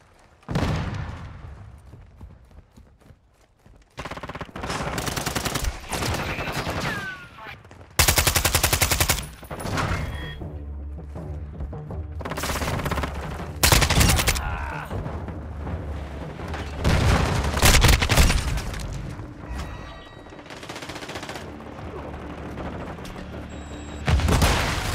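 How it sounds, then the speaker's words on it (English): Heavy gunfire in a Call of Duty Hardpoint match, with loud machine-gun bursts and booming shots coming in repeated waves, some near and some farther off, with almost no talk. "Taking effective fire."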